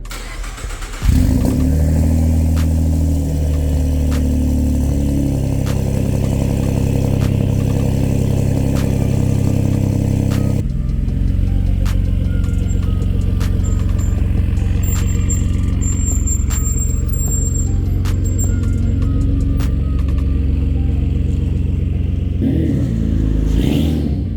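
A Ford EcoBoost engine breathing through a stainless straight-pipe exhaust roars loudly, revving hard before settling into a deep, steady idle that drones on close by.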